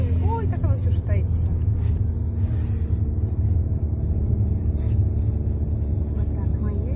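A steady low engine and road rumble fills the inside of a moving car on the way to a dance performance. People talk over the drone throughout.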